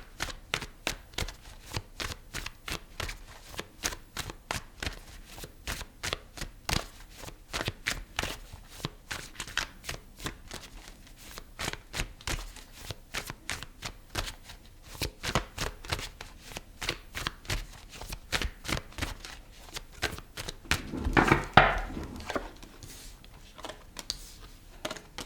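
Tarot cards are shuffled and pulled in repeated quick riffling bursts, close and fairly quiet, with a denser flurry of card noise near the end.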